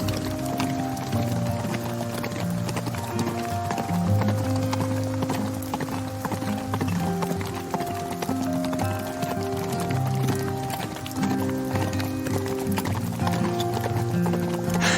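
Wild horses' hooves clip-clop continuously and loudly near Widecombe in the Moor, a busy, steady stream of hoofbeats with occasional whinnies mixed in.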